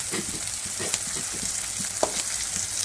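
Chopped vegetables and green chillies sizzle steadily in a pan while being cooked for Maggi noodles, with a continuous frying hiss and a few soft stirring clicks, no voices.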